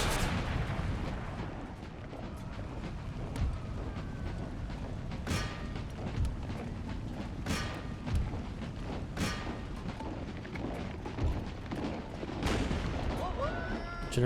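Cannon artillery fire and explosions on an Empire: Total War battlefield, with repeated booming shots and blasts at irregular intervals over a rumbling background and someone talking over the battle.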